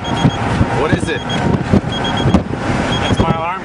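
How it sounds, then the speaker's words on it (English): An alarm clock beeps in a repeating pattern of short, high tones beneath loud wind noise and people talking close to the microphone. "That's my alarm clock."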